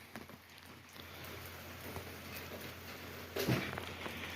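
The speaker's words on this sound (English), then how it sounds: "And then just like that, trying to get projects done, starts to rain." Rain begins to fall outdoors during a truck project, a soft steady patter and hiss spread across the scene, faint and continuous, with a brief louder knock near the end.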